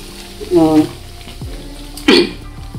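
Banana pieces fry in hot oil for pisang goreng, a soft steady sizzle running throughout while a voice briefly sounds over it twice.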